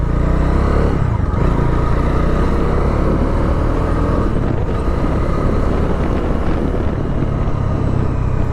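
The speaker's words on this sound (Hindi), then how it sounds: "थ्रोटल दे रहा हूँ ना तो जो पावर फील हो रही है ना वो भाई मज़ेदार है" A Bajaj Dominar 250 motorcycle engine pulls loudly and continuously under throttle while riding, its deep drone mixed with heavy wind rush past the microphone.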